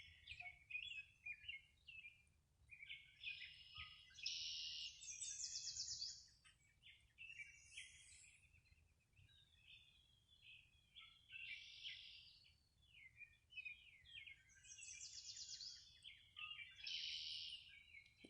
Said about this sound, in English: The bird song has been amazing.